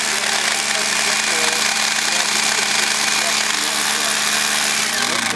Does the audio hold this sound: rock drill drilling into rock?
yes